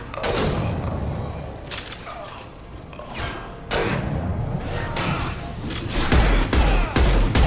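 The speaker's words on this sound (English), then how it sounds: "Firing a high-impact shot." Gunfire in the Mass Effect 2 video game, heavy game weapon blasts and shots firing in loud bursts with booming impacts and crashing debris over dense battle noise.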